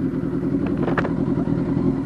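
Loud motorcycle with the exhaust baffle removed, a steady rumbling engine drone running throughout with a brief rise in the middle, no talking.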